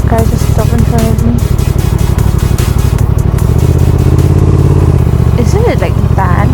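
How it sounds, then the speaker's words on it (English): A motorcycle with an aftermarket exhaust and full bent pipe runs close by, its engine a steady loud throb while a rider talks over it. "the exhaust is still on with the DB color. It comes with a full bent pipe."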